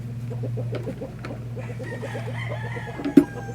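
A rooster on a busy farm, kept on a tie cord, with rapid clucking and crowing calls over a steady low hum, ending in a brief louder burst near the close.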